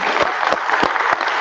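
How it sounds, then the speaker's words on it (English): Keynote audience applauding at an education conference, a dense continuous wash of clapping from a large crowd, steady and loud throughout with a few sharper individual claps standing out. "Can I get a round of"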